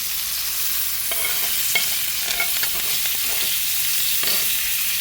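Filet mignon sizzles and fries in a pan while being basted, a steady bright hiss broken by soft spoon scrapes and light clicks, close and continuous with no talking.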